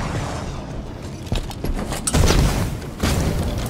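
Enemy fire in a Halo 5: Guardians Capture the Flag match, scattered muffled shots and booming impacts over continuous background noise, building to a denser cluster of hits.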